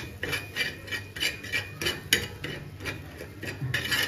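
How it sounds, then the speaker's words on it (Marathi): A spoon scrapes and clinks rhythmically against a pan as spicy Ghati masala and turmeric are mixed together, with quick repeated strokes close to the microphone and no talking. "आता याला आपण चांगलं मिक्स करून घ्यायचं आहे।"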